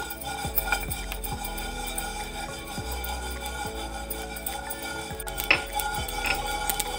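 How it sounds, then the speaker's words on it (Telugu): Peppercorns and sesame seeds roasting dry in a hot pan give off scattered crackles and pops amid metallic clinks and scraping, a steady busy sizzle close by, with no talk. "వేగా చూడండి చిట్పట్లాడుతున్నాయి కదా, మంచి సౌండ్ వస్తుందో చూడండి."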